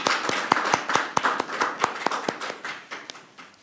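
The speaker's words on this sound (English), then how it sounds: "Just give me a big clap." A church congregation at a Sunday service claps for a few seconds, with distinct, fairly sparse hand claps close by and moderately loud in a roomy space, without voices over them.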